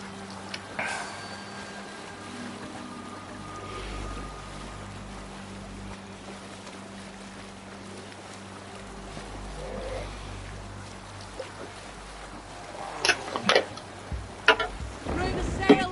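A sailing ship moving over open water in Assassin's Creed Valhalla, with a steady wash of waves and wind, then louder splashes and creaks toward the end.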